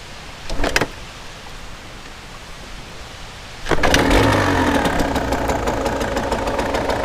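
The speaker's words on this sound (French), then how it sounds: "ça démarre au deuxième coup de kick" A 1996 Yamaha DTR 125 dirt bike takes a kick-start: a brief mechanical thump early on, then the two-stroke engine catches and runs at a steady, loud, raspy idle close by.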